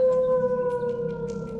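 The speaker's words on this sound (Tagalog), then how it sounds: "biglang umalulong ng malakas sa mga aso sa kalagitnaan ng tirik na araw" Dogs howl loudly in the middle of a hot sunny day, a steady sustained wail held throughout without pause, loud and close, with no talk over it.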